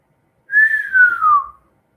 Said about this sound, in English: Whistling and shit.